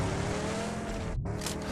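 A vehicle rolls down a slope with a loud, continuous road roar and tire noise, cutting out briefly before a hissing scrape returns.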